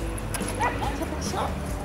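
A stressed dog in a shelter gives short yips and whimpers close by, mixed with soft background murmur and some voice.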